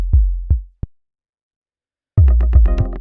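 Several deep synthesized kick drum hits from Ableton's Operator synth, a few spaced thumps, a pause of silence, then overlapping booming kicks ringing into each other with tonal overtones.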